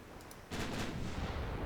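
Naval gunfire in the warship game Ultimate Admiral: Dreadnoughts, a few faint ticks then a heavy booming barrage that starts abruptly and rumbles on continuously, fairly distant.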